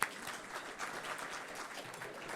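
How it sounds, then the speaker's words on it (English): Applause from an audience at a civic gathering outdoors with a city view, a steady dense clatter of many hands at a fairly faint, distant level throughout. "Give them a hand"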